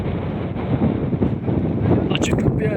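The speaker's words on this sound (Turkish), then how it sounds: "Bayağı esiyor baraj yalnız" Strong wind at a reservoir dam buffets the microphone in a constant low roar, with gusts rising and falling and a voice speaking beneath it.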